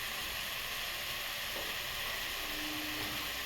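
Onion and tomato masala sizzles and fries in a pan for chicken curry, a constant close hiss with no pauses and no talk over it.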